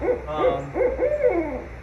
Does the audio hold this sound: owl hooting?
yes